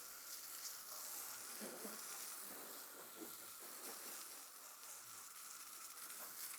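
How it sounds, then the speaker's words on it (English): A water spray rinses a tire and wheel, making a steady, faint hiss broken by soft irregular spattering, with no talking. "Now we rinse."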